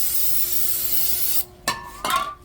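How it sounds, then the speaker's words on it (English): Brake cleaner sprayed onto rear brake parts of a 2011-2018 Volkswagen Jetta during a pad and rotor change, a steady loud aerosol hiss that stops abruptly, followed by a couple of short clanks and rattles. "Use your brake cleaner,"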